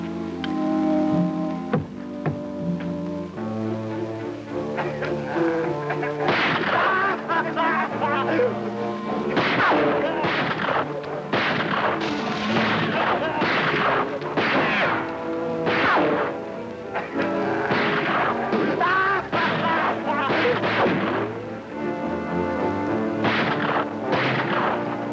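Gunfire in a jungle adventure serial, a dense run of loud, sharp shots and bangs repeating throughout over a busy dramatic soundtrack.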